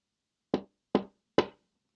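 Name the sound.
knocking on a door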